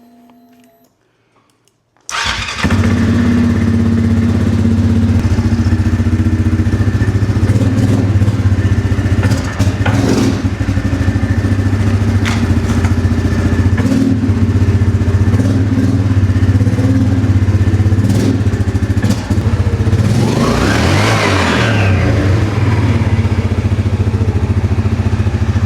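An ATV engine fitted with a new clutch kit fires up after a brief quiet moment, then runs loud and close at a rough idle with clattering, and a sharp rev lands near the end.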